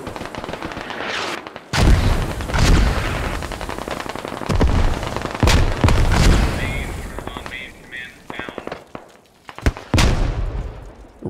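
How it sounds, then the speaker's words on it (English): A mortar barrage in the Squad military shooter, with repeated loud, deep impacts every second or so mixed with ongoing gunfire and a constant battlefield roar, fading toward the end; voices come through briefly. "And the mortar barrage."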